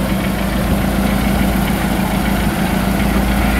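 A car engine idles smoothly and steadily, a low continuous hum with a faint vibration, unchanging throughout.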